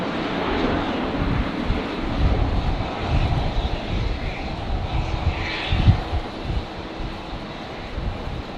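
An airliner takes off from runway 19 left at Brisbane Airport on a windy day, its engines giving a sustained rumbling roar with gusty wind buffeting the microphone, tapering slightly toward the end, and no talk.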